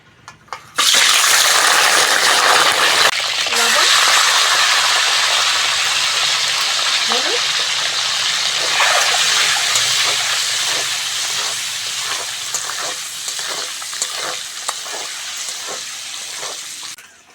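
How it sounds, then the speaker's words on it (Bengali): Loud, steady hiss of eggs frying in hot mustard oil in a wok, a dense sizzle that starts abruptly and continues with crackling pops throughout. "তেল গরম হয়ে গেছে ডিমগুলো দিয়ে দেবো"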